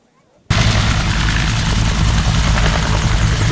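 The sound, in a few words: Huey helicopter rotors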